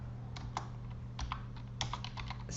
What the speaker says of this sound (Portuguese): eu preciso vir digitar toda a tag dela